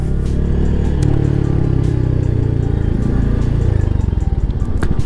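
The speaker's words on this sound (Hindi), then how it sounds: "तो भाई सेकंड गियर पे बाइक 80 की स्पीड टच कर रही है" Royal Enfield Hunter 350 motorcycle at about 80 km/h in second gear, its loud, steady engine thrum and exhaust drone sustained close up throughout with wind noise.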